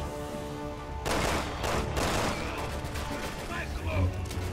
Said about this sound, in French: De toute façon, ça tire de partout.